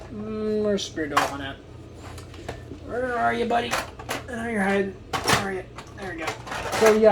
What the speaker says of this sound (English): that little metal box you heard in the background that I was digging through